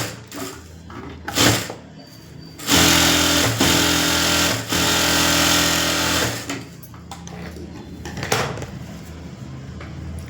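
A sewing machine stitches a blouse lining in long, steady bursts of motor whir, with shorter start-and-stop runs and some handling clatter between them.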